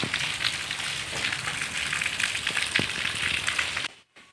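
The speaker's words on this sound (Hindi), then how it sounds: "बारिश बहुत तेज़ से हो रही है।" A torrential rainstorm roars outdoors, a thick unbroken hiss of drops striking surfaces with occasional sharper splashes, loud and steady for several seconds before cutting off abruptly near the end.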